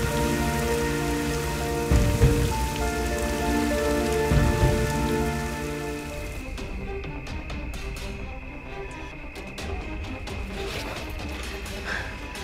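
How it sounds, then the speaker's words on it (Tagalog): Heavy rain pours down steadily as a dense, loud wash, with a couple of heavier bursts early on, and tonal hum lines running underneath. "Ang lakas ng ulan."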